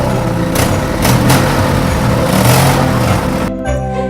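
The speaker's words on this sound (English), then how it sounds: "very soon they could hear his truck motoring towards them" A truck engine motors closer, a loud droning hum with swells in revving. It cuts off abruptly near the end.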